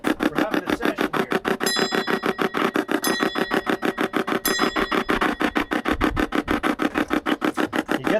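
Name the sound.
hand bell being rung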